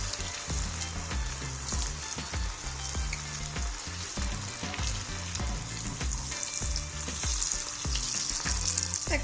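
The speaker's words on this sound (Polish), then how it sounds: "Frytki z manioka umieszczam w gorącym oleju." Cassava fries frying in hot oil, a steady bright sizzle with repeated low bubbling pops and occasional stirring knocks, close and continuous with no talking.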